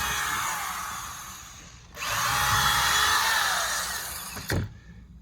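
A power drill whirs close by in two short bursts, pre-drilling holes in a deck board, the motor pitch rising as it bites into wood, with a brief pause between.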